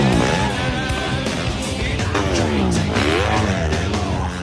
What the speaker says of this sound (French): Quand tu remets un coup de gaz, la moto elle s'engorge, elle broute, elle veut presque caler sans jamais vraiment caler.